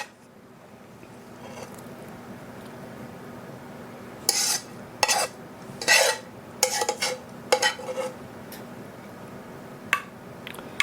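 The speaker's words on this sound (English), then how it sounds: "I will just spoon my meat mixture on top of this" A spoon scrapes and taps against a dish while meat mixture for shepherd's pie is spooned out, giving several short clinking scrapes in irregular bursts over a quiet room hum, with no talking.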